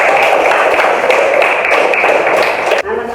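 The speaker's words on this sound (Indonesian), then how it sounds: "Tepuk tangan." Children in a classroom audience clapping together, a dense, loud patter of many small hands that holds steady and then cuts off abruptly near the end.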